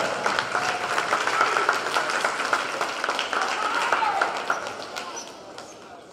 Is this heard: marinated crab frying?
no